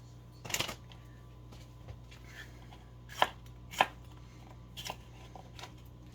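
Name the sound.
knife chopping sweet peppers into rounds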